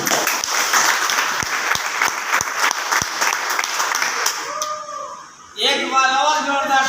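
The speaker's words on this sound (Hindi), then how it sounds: "एक बार जोरदार तालियां हो जाए" Loud, dense applause from a seated audience at an RCM group motivational gathering, sustained for about five seconds before fading and giving way to a voice talking.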